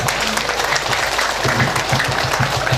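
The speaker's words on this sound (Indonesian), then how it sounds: "Tepuk tangan untuk beliau." Audience applause for an honored guest at an Islamic community anniversary gathering in Palembang, continuous clapping from a crowd with faint voices beneath.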